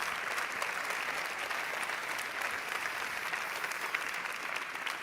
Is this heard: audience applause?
yes